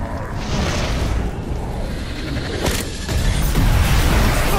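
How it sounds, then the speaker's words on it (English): Bursts of fire shot at players in Evil Dead: The Game, loud booming whooshes swelling and crackling over a dense, continuous roar, with a sharp surge near the end. "Oh God, they're shooting fire!"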